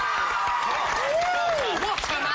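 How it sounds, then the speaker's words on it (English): Studio audience on an Australian TV show applauds a round for last year's Gold Logie winner, dense continuous clapping and cheering throughout with a voice over it. "Round of applause, ladies and gentlemen."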